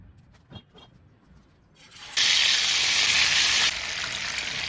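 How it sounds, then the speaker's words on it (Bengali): Pieces of katla fish hit hot white oil in a pan with a sudden loud, steady sizzle that roars on for a couple of seconds, then settles into a softer continuous frying hiss. "এখন প্যানে তেল দিয়ে মাছগুলোকে ভেজে নেব।"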